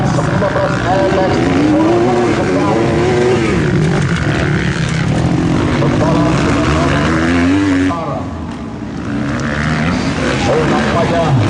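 Loud 250cc motocross bikes race at an amateur event in Toraja, their engines revving and droning steadily throughout while a commentator talks over them.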